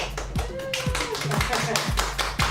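A group claps in a steady rhythmic beat, each clap sharp and close, while voices carry on underneath.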